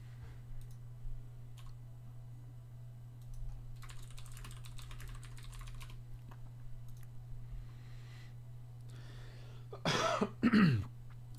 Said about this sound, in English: I wish I could stop coughing